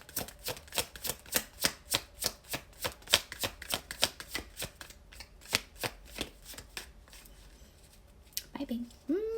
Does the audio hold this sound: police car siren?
no